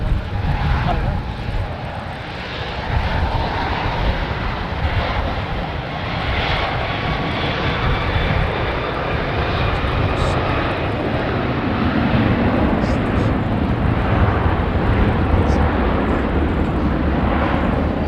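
An airliner with Rolls-Royce Trent 7000 engines departs from runway 09, its engine roar loud and continuous throughout, a broad rumbling wash that swells slightly toward the end.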